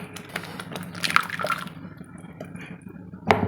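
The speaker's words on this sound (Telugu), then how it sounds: "దీంట్లో కొంచెం వాటర్ వేసేసాను" Water poured into a freshly ground paste for paneer curry, heard as a few soft splashes and drips, with a brief louder splash near the end, amid quiet kitchen handling.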